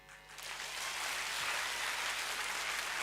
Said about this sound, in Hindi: हाथ उठा के ताली बजाइए.